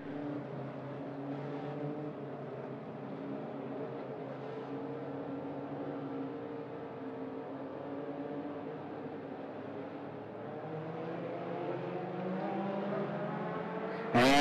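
Mini stock race cars at 411 Motor Speedway roar through a restart under green, a steady blend of overlapping engines with rising and falling pitch as the pack accelerates, fairly distant and continuous, with no talking.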